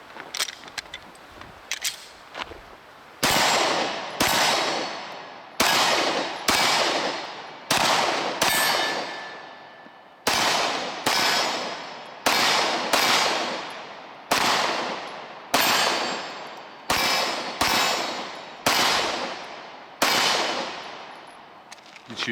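Pistol shots from a Walther Creed or CZ P-10 C handgun ring out at an outdoor range, about fifteen sharp, loud reports in an even, deliberate rhythm, each ringing off briefly before the next.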